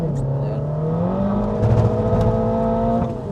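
A modified 400+ BHP Mini F56 pulling hard in fourth gear: a loud, continuous engine drone rising steadily in pitch, heard close from inside the car.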